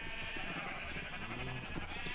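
Sheep in Minecraft bleat repeatedly in a steady, busy ambience, several overlapping calls at moderate loudness with no talking.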